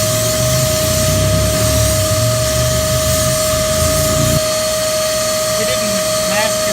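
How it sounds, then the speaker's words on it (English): Paint spray gun hissing steadily while coating a stock-car-style Nissan 240SX widebody, a loud continuous broadband spray with a steady tone running through it, cutting out partway, then lower background noise. "I'm gonna mix some paint and get spraying."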